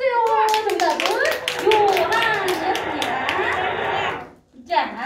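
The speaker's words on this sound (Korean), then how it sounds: "박수 주세요" Young children in a kindergarten class clap together in a quick patter under a teacher's speech, the clapping close and steady before stopping abruptly near the end, followed by a brief voice.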